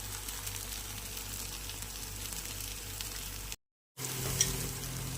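Sweet potato paniyaram frying in ghee in a pan, giving a faint, steady sizzle with a brief break of silence partway through.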